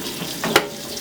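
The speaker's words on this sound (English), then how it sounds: "turn our cold water on, and we're going to douse our screen" Cold tap water splashes briefly onto a screen-printing screen for a Yudu machine, a short close gush of running water lasting under a second amid quiet room tone.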